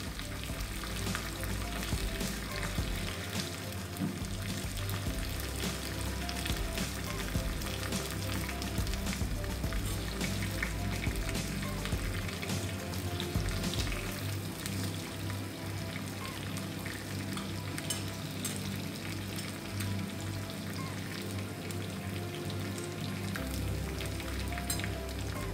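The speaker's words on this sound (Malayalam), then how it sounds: "കറിവേപ്പില ഒന്ന് ഫ്രൈ ആയി വരണം." Curry leaves frying in hot oil with onion and chilli for onion chutney, a steady close sizzle and crackle running without pause, with no voices over it.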